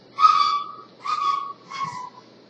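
A person's distinctive family whistle: three clear, fairly loud whistled notes, each sustained briefly with short pauses between, heard alone in quiet surroundings.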